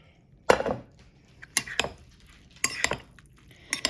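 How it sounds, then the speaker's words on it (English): Pasta salad with cucumbers and tomatoes stirred in a bowl, a handful of sharp utensil clinks and scrapes against the dish in irregular bursts with quiet gaps between. "We're going to give this a stir."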